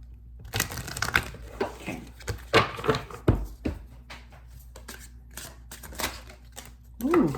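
Tarot cards are shuffled close by in bursts of riffling, flicking and tapping, with short pauses between sets and no clear talking.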